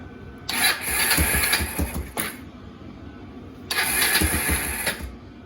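A Kawasaki KLF300 Bayou 4x4 ATV with a fault is cranked twice during a spark plug swap test, each burst a whirring, chugging starter run of about two seconds that fails to catch, separated by a quiet pause.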